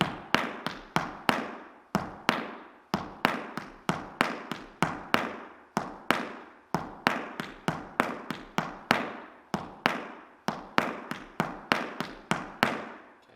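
Irish dance drum steps tapped out by hard shoes on a wooden floor, a fast and steady run of sharp close percussive beats grouped in repeating threes, with no voices over them.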